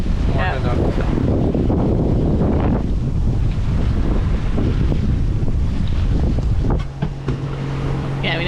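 Strong wind buffeting the microphone on a sailboat running downwind in 23 knots of breeze, a loud continuous roar with water rushing beneath, easing near the end as faint voices and a low hum appear.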